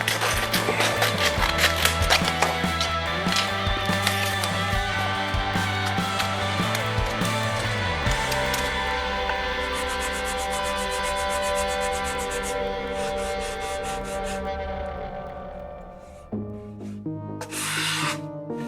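A wooden guitar body sanded by hand with 240 grit sandpaper in a luthier's workshop, giving continuous close rubbing strokes in a steady back-and-forth rhythm, with a tonal hum underneath that fades near the end.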